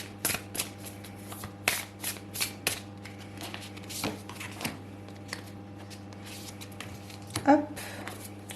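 Tarot cards are shuffled and laid down one after another on a table, giving close, crisp riffling and soft slaps in an irregular rhythm.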